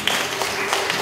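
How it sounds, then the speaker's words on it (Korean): Brief burst of clapping from a worship congregation at a youth service, a short wash of hands with a few sharper claps standing out. "주님께 영광의 박수 올려드리도록 하겠습니다"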